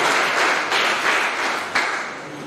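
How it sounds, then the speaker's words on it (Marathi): Audience at a teacher award ceremony applauds steadily with dense, continuous clapping throughout, fairly loud and without talk. "टाळ्या वाजल्या पाहिजेत मित्रांनो"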